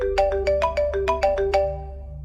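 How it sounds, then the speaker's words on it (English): A phone alarm clock blasting a bright, repeating melodic ringtone of quick chiming notes, loud and close, with no voices. "I woke up again to the sound of my phone's alarm clock blasting"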